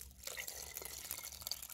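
Water holding tadpoles is poured back into a container outdoors in winter, a faint, steady splash and trickle lasting the whole moment with no voices.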